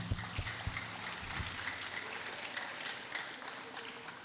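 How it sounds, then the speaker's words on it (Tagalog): A Baptist church congregation applauding during an anniversary service, a few sharp claps at first followed by a softer, sustained wash of clapping, somewhat distant and faint. "Bigyan po natin ng palakpak ang Panginoon"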